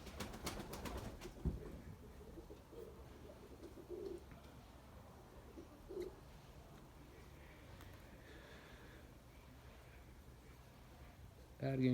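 Pigeons in a loft coo softly and intermittently, with occasional low voices and handling noises, and a louder bump near the end.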